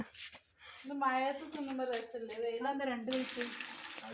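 A voice speaks with a sustained, almost sung tone, then a tap turns on and water gushes steadily and loudly over hands being washed for the final second.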